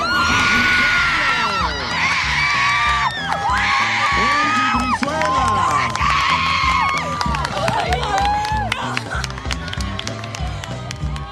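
At a homecoming king and queen announcement, a big crowd screams, whoops and cheers loudly and continuously, with clapping and stomping throughout and voices shouting within the din.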